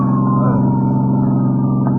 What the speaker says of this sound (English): Halsey, tell the driver to stop this ambulance.